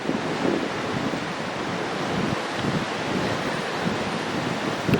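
Sea waves wash against the coast at Porto, a steady broad rush of surf with wind buffeting the microphone, continuous and moderately loud with no voices.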